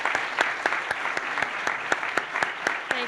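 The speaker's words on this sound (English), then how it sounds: "So let's give them a round of applause." Audience applause at an evening event hosted at the National World War I Museum and Monument, steady dense clapping from a sizable crowd with a few sharper claps standing out, continuing throughout.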